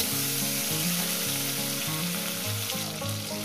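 Tomatoes frying in oil in a pan, a steady, close sizzle heard throughout, with a tonal, stepped melody running underneath.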